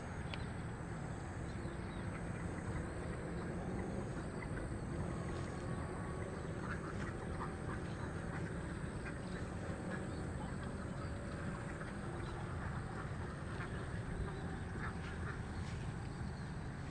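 Ducks on a duck farm in Klaten quack steadily throughout, a dense chorus of many birds with a constant background hum, no pauses.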